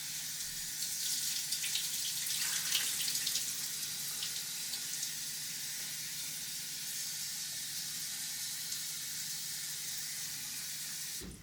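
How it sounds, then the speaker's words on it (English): Tap water runs steadily into a sink as shrimp are rinsed under it, a continuous close hiss and splash with no talking. "Now when you rinse it off, you keep rinsing so everything, the water runs clear."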